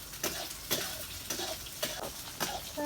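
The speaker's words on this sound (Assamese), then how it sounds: "প্ৰথমতে চয়াবিনখিনি ভাজি লওঁ।" Soybean chunks frying in hot mustard oil in a wok, a steady sizzle broken by regular scraping stirs of a spatula roughly every half second, close and clear with no talk.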